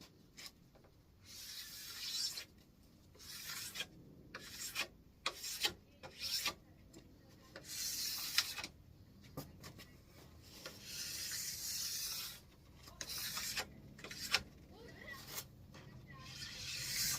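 A plastic scraper, flexed slightly, scrapes wax off a ski in repeated rasping strokes, each a few seconds long. The sound is close, with brief pauses between strokes.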